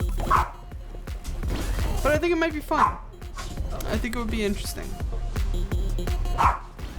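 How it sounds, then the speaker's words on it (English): A dog barking at a broom indoors, repeated yips and barks mixed under a person talking steadily, the barks loud and close at several points. "She's barking at the room again."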